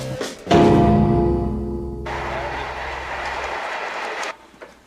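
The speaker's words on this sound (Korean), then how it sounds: "기차 아닐까요? 네. 지하철 아닐까요? 기차입니다." A train rolls past close by somewhere in Denmark, a loud sustained rumble with rhythmic clickety-clack of wheels on rail joints, a brighter rushing wash joining midway before the sound cuts off near the end.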